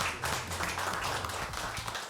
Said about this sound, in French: Un tonnerre d'applaudissements encore pour Madame Mado